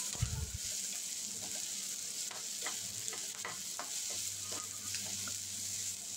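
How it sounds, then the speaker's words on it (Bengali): Pointed gourd (potol) sizzles as it fries in a pan, a constant hiss broken by light scraping and clicks of stirring, heard up close without any voices. "আর কিছুক্ষণ ভেজে নিয়েই পটলটা তুলে নেব।"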